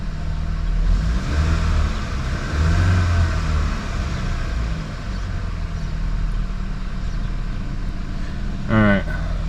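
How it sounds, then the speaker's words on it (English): A 2019 VW Jetta GLI 2.0 turbo engine with a stage 1 tune runs steadily close by, with a few rising revs early on and a brief higher whine near the end. "the engine is running"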